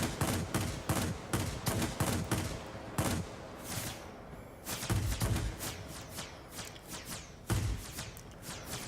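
Aircraft machine guns in World of Warplanes, fired from a J7W2 fighter, come in several loud rapid bursts, each a dense rattling string of shots, separated by brief pauses.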